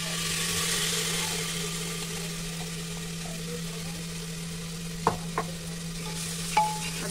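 Onion-garlic paste and soaked masala frying for rajma, a constant close sizzle with a steady low hum beneath, broken by a few sharp utensil knocks and scrapes near the end, no speech.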